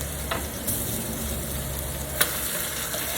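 Potato crisps frying in very hot grease give a steady, close sizzle, with a couple of faint sharp pops.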